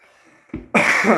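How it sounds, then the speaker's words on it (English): A single quick throat clearing, close and fairly loud, preceded by a faint rustle. "I had to clear my throat."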